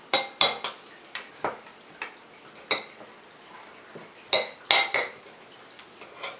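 A spoon scrapes and clinks against a pot while a dessert mixture is stirred, a dozen or so sharp close knocks at uneven intervals over a faint background.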